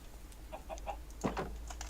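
A chicken in the modded Minecraft pack Stoneblock 2 gives a few short soft clucks over a low steady hum, with faint clicking like keys between them.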